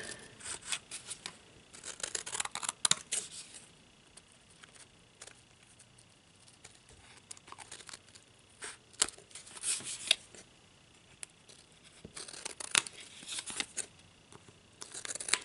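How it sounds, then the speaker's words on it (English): Scissors snipping through cardboard in a craft project, close and crisp, with a run of short irregular cuts and pauses, no talking. "I can feel when my scissors hit the edge right there, the cardboard, and then I cut."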